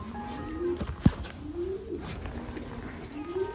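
A pigeon held by fanciers coos in low, rolling phrases, three drawn-out calls close by, with a sharp knock near the start and people talking softly around it.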